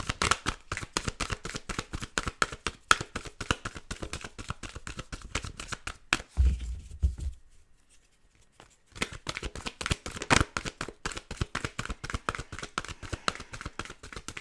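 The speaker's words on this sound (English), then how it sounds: "As I sit here and shuffle" Tarot cards shuffled steadily during an Aquarius love reading, giving rapid close riffling and slapping that runs on with a brief pause midway, no voices heard.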